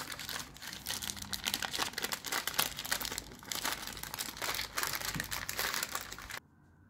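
Crinkly wrapping being folded around pastrami before baking, a continuous close rustle and crunch of paper or foil handled steadily for several seconds, then stopping abruptly.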